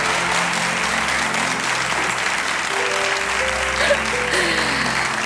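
A television studio audience applauds continuously, a dense even roar of clapping that holds steady throughout with a faint murmur underneath.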